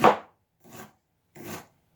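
A knife chops through ginger on a cutting board as it is prepared for a blender green juice: three crisp, close strokes with short pauses between them, and no talking.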